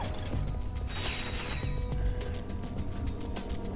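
Bolt crank mechanism turned in a video game: a continuous loud ratcheting, clicking gear rattle with metallic creaks, rhythmic and close, running steadily throughout.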